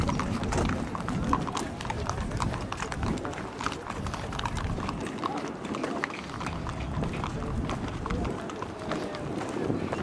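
Horse hooves clip-clopping on ground near the Giza pyramids, a steady busy patter of hoofbeats amid outdoor crowd bustle and wind, with voices talking in the background throughout.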